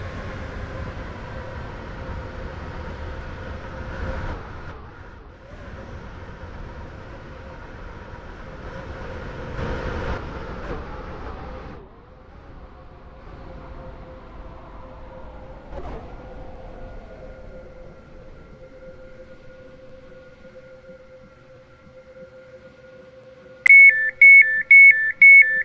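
A Roblox train in Stepford County Railway rolls into Upper Staffler station, a steady rumbling run with a sustained tone and a falling pitch as it slows, ending in a loud pulsing chime or beep.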